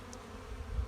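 Honeybees hum softly in an open hive during an early spring inspection, a faint, steady low drone with no voices over it.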